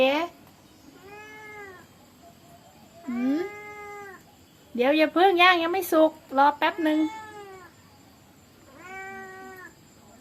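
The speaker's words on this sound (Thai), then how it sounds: "แมวบ้านไหนวะ" A stray wild-looking cat meows repeatedly near an outdoor grilled-fish meal, with long drawn-out cries, some louder and wailing, close by, while someone talks at times in between.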